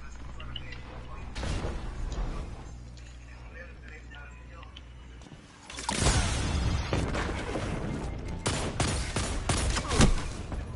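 Rapid gunfire and explosive bursts from a Destiny 2 match, loud and dense, with a heavy volley swelling midway and continuing to the end, while players talk over the shooting.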